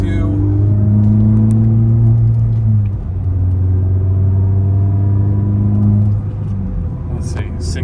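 A 4th-generation Mazda 3 fitted with a Corksport short ram intake accelerating on a straightaway, its engine a loud, steady droning hum that rises in pitch, drops briefly as the gear changes, then climbs again. A voice talks over it.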